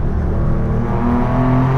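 An air-cooled Porsche 964 RS with a 3.9 litre, 390 horsepower engine drones loudly and steadily from inside the car, its pitch climbing slightly as the revs build.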